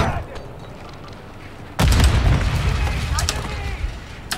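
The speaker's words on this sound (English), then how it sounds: "Grenade!" A grenade blast in the Call of Duty DMZ game: after a quiet stretch, a sudden loud, close boom erupts and rumbles on as a dense, broad roar with scattered crackling bursts.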